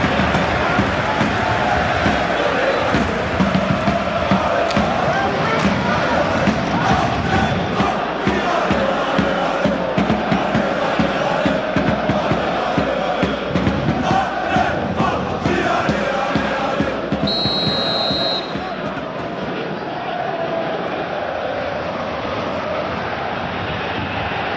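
A stadium crowd roars throughout an eFootball Champions League semi-final between PSG and Bayern Munich, a dense continuous din under commentary, with a sharp whistle-like tone near the end.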